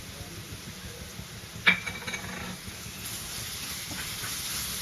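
Radish pieces frying in a pan for a Telugu-style radish stir-fry, giving a steady soft sizzling hiss with a brief louder crackle near the middle.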